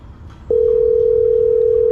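A phone call-back rings out on a mobile: after a faint rustle, a steady loud electronic tone switches on abruptly and holds unbroken to the end.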